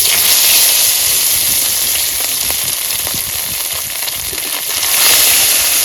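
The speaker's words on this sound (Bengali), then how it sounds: "প্রথমে মাছগুলো ভাজা করে নিতে হবে। সব মাছ একবার ভাজা করে নেবো।" Fish frying in hot oil in a wok, cooked outdoors by a river in the Sundarbans, giving a steady, loud, hissing sizzle throughout with occasional crackles and spits.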